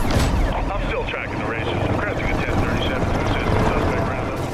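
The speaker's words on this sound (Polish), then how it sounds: "Wzywamy śmigłowiec" A police helicopter in the video game Need for Speed Rivals gives a dense, continuous rotor roar, loud and steady throughout.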